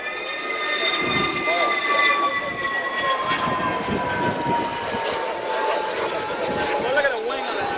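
A U-2R high-altitude reconnaissance aircraft flies past at the 1992 Salinas airshow, its jet engine a steady, fairly distant whine with high tonal lines, under a commentator speaking over a loudspeaker.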